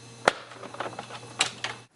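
Someone types on a clear-cased electric typewriter made for prisons. Sharp, uneven key strikes and clacks sound over a constant low electrical hum.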